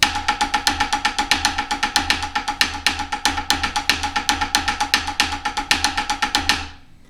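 Snare drum played as a fivelet grid exercise, accents shifting every two counts: a steady, rapid stream of crisp, evenly spaced strokes with regular louder accents, close and alone, ending with a short ring-out.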